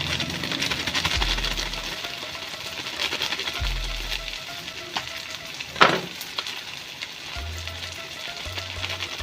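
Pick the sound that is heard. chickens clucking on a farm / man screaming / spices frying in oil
spices frying in oil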